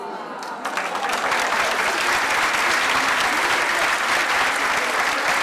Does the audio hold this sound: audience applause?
yes